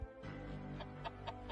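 A rooster in the PUBG video game gives a short run of clucks, four quick, close calls at roughly even intervals over a low steady hum.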